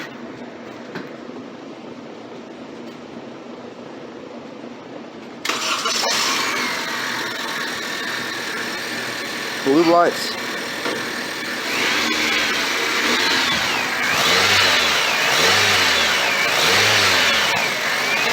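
A 2007 Honda Civic 1.8L with its stock airbox starts up after a quiet stretch, settles into a steady idle, then revs up and down several times, loud and close; a voice says a couple of words briefly.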